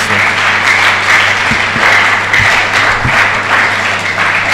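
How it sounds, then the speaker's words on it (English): Steady applause from a symposium audience on communicable and non-communicable diseases, dense clapping that holds at an even, fairly loud level throughout. "Shall we give the chairman another round of applause?"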